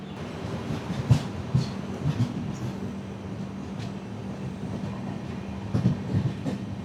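Onboard the 16332 Express in a 2A coach as it pulls out of Kayamkulam station with a jerk: a steady low rumble with rhythmic, irregular wheel clacks and thumps, and no talk.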